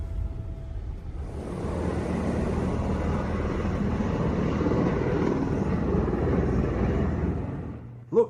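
A helicopter lifts off from a large heliport, its rotor and turbine roar building quickly and holding steady and loud close by for several seconds before cutting off abruptly.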